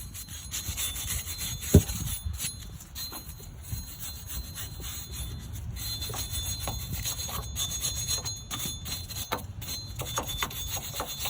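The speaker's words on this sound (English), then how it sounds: "I'm going to give this a good clean up with a wire brush now and some brake cleaner" Wire brush scrubbing surface rust off a Ford Fiesta MK7 front brake hub, a close, steady, raspy scraping in rapid strokes with a sharp metallic knock early on and no talk.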